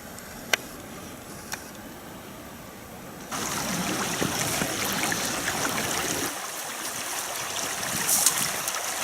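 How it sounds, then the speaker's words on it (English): TP Creek flowing in the Duck Mountain woods near Little McGaw Lake in April: a continuous close rush and trickle of water that grows louder midway, with a couple of sharp knocks early on. "I just crossed TP Creek"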